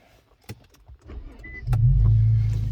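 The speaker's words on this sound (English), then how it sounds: "So I'm gonna start the car." A 2019 Infiniti Q50S starts up: a few clicks and key rattles give way to the engine catching and settling into a steady, loud low rumble that fills the rest of the moment.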